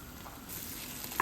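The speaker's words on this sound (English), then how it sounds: "Then we're going to add 1 tablespoon of butter." Butter melting and sizzling in a pot with minced garlic sautéed over low heat, a steady soft sizzle that grows slightly louder partway through, ending in a brief clink of a utensil.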